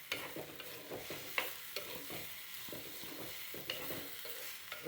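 Ivy gourd stir-fry being stirred in a pan for a Kerala-style mezhukkupuratti, with repeated scraping strokes of a spoon over a steady close sizzle and no talking.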